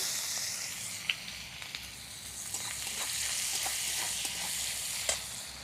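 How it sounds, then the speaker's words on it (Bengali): Chopped onion fries in hot oil with bay leaves and dried chilli, a steady close sizzle with occasional stirring clinks and pops, no voices. "পেঁয়াজটাকে লাল করে ভেজে নিতে হবে"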